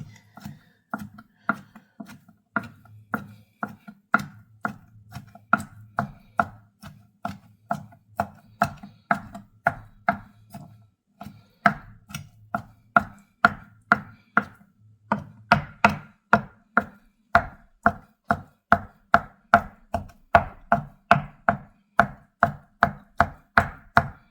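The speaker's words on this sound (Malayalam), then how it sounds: "നിങ്ങളിങ്ങനെ ചോപ്പ് ചെയ്താൽ മതി കത്തി വെച്ചിട്ടൊരു വലിയ കത്തി ഉണ്ടെങ്കിൽ നിങ്ങൾ ചോപ്പ് ചെയ്ത് കൊടുത്താൽ മതി" A large knife chops food on a cutting board in a steady run of sharp, evenly spaced knocks, close and loud, speeding up slightly toward the end, with no voices.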